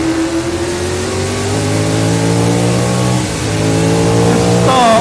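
A McLaren Can-Am race car revs hard on a track, its engine loud and close with steady harmonic tones that dip briefly and then climb sharply near the end.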